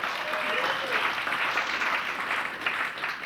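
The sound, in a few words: audience applause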